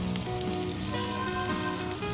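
Seekh kebabs sizzle in about a tablespoon of oil over a medium flame on a stovetop, a steady, close, crackling fry that holds evenly throughout with no talk over it.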